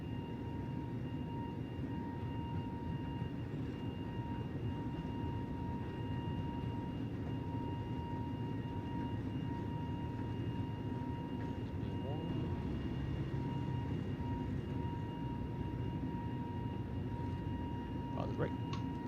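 FlyByWire A32NX airliner in Microsoft Flight Simulator, its engines a steady low roar with a faint tonal whine throughout, and a voice talking over it.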